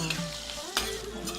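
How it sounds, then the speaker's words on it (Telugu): Chillies and curry leaves fry in hot oil as a tempering, giving a steady close sizzle with brief clinks of stirring. "తాలింపు వేగిపోయింది కదా"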